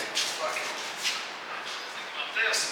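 A small dog yips and barks in a garage, several short high-pitched barks spaced irregularly, faint and fairly distant, with people talking over them.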